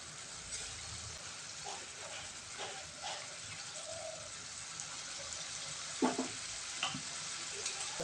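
Egg curry masala sautéing over a raised gas flame, a low, fairly faint sizzle with occasional scraping stirs and a few sharper clinks, no voices.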